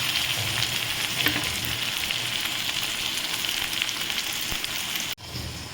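Onions frying with about five garlic cloves in a pan, a dense, steady close sizzle with faint stirring that cuts off abruptly near the end, with no voices.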